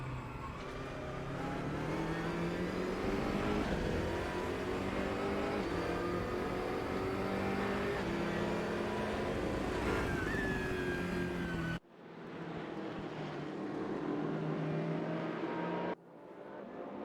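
Race cars in the RaceRoom sim racing game, including an Audi, roar continuously at high revs, with engine notes rising and shifting as several cars run close together, and the sound cuts abruptly twice near the end.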